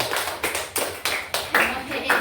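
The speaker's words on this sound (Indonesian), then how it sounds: "Tepuk tangan untuk Fahmi" A classroom of students claps in a short burst of quick, uneven hand claps, close and fairly loud, with no talking over it.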